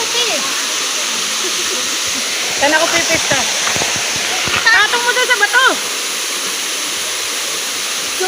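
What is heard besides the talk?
Kagbuho Falls waterfall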